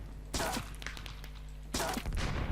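Two bursts of rapid gunfire, among them an M4A1, come from a Minecraft GTA-War server. Each is a loud, dense rattle of shots with steady crackle between, heard alone.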